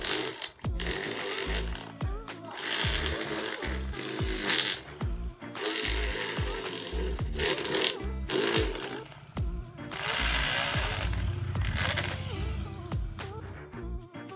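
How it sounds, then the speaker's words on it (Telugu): An electric drill machine bores a hole in a pipe for a homemade water pump. It whirs loudly and close up in repeated start-stop bursts of a few seconds each, with no talking. "మన డ్రిల్ మెషిన్తో అయితే ఒక హోల్ అయితే వేసుకుంటున్నాను"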